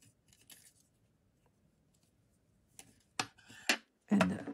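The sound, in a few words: scissors cutting a yarn tail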